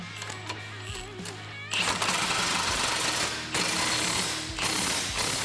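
Tightening bolts on a shock tower brace of a Can-Am Maverick X3 with a power tool, loud continuous rattling bursts that start and stop in long runs, with a brief whirring before them.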